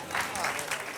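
Church congregation clapping in praise during a service, a steady wash of applause filling a brief moment, with a voice faintly mixed in.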